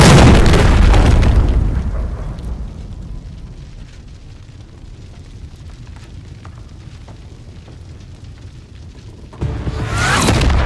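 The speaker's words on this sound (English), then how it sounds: "Flash grenade! Get to cover!" A flash grenade goes off in the Call of Duty MW3 beta shooter game: a loud booming blast opens and slowly fades into a dull ringing hush, and a second loud surge of noise rises near the end.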